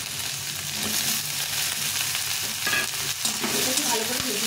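Chopped eggplant sizzles as it fries in a pan with potatoes and chili, with steady crackling and scraping stirs close by and no talking.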